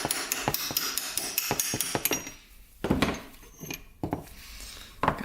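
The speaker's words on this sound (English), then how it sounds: "Punch out the pin here." Sharp metallic hammer blows punch the piston pin out of a Honda CRF250L dirt bike engine, first a rapid string of close taps, then a few isolated louder strikes after a pause.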